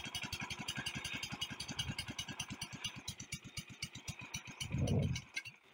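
A small single-cylinder engine, the kind used in Philippine racing boat building, chugs at a slow, regular idle with distinct repeating thumps, then revs briefly with a louder burst before cutting off near the end.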